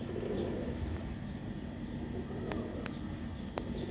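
Old Sialkoti pigeons coo softly over a steady background hum, with a few faint clicks and taps scattered through the short stretch and no one talking.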